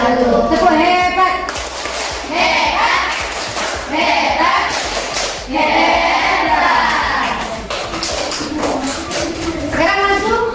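A classroom group chants the rhythmic 'tepuk hebat' clapping cheer together, loud and close, with a crowd of young voices shouting in unison over steady claps for the full stretch.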